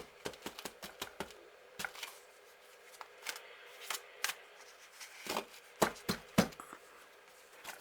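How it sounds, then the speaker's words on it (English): Tarot cards are shuffled close up in a quiet room, with a series of crisp, dry snaps and riffles coming in irregular clusters, some sharper strikes standing out near the end. "I've been shuffling the cards as we speak"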